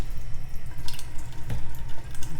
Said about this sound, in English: so let's do this corner with the stream of water